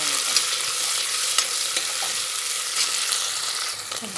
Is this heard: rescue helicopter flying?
no